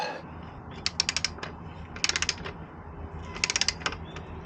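A ratchet wrench clicks in three quick bursts of rapid ratcheting while torquing lock nuts on the rear hub of a KTM 390 Adventure during a cush drive damper swap. The clicks are close and crisp over a low, steady background hum.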